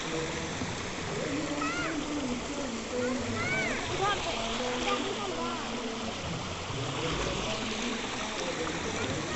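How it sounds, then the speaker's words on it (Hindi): A waterfall rushes and splashes steadily in the background while people talk over it. "इसे कहते हैं वाटरफॉल।"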